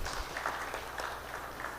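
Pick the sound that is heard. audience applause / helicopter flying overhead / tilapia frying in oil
audience applause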